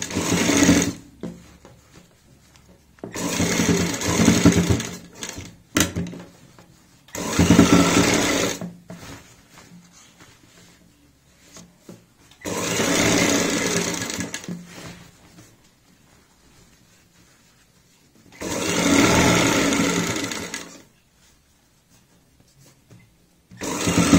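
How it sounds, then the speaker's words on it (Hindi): A sewing machine stitches a folded kurti neckline in repeated bursts of rapid, steady whirring and clatter, each run lasting a few seconds with quiet pauses between them. "ऊपर से यहाँ पे सिलाई लगा लेंगे एक पैर चौड़ाई वाली"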